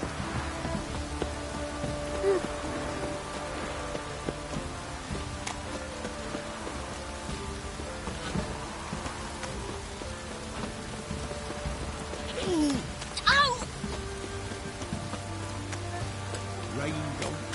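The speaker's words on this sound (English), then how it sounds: "Looks like rain." Steady rain patters across the scene in The Witcher 3 with a low ambient hum beneath, broken by a brief brighter whooshing flourish near the end.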